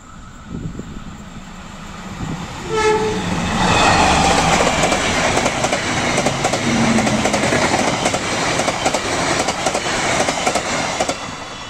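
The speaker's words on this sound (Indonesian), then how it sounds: "persiapan melintas kereta api Pasundan dengan lokomotif WNB" The Pasundan passenger train with a WNB diesel locomotive rumbles loudly past Cimekar station, engine droning, wheels clattering rhythmically over the rails, growing louder and staying close throughout.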